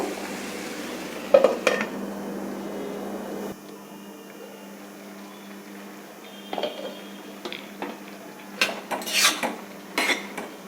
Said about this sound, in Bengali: আমি এবার ঢাকা দিয়ে দেব